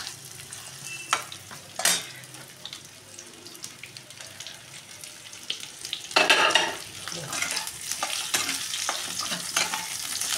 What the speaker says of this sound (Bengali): এবার আমি এই তেলের মধ্যেই আলু আর পটলগুলো ভেজে নেব